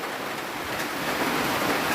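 Heavy rain falls at a pig farm as a dense, even hiss, loud and close, steady throughout without gaps or other sounds.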